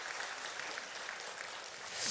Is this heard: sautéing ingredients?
no